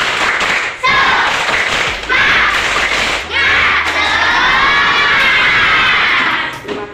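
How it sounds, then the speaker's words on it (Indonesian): A class of fourth-grade primary school children shouts and claps together in a classroom cheer, loud bursts of group clapping and voices repeating in rhythmic waves across several seconds. "kita tepuk semangat dulu sama-sama"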